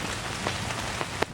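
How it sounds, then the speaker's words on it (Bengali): Steady rain falls outdoors in a garden with chilli plants, a dense, continuous patter with a few slightly sharper drops standing out near the end. "বৃষ্টি পড়ছে"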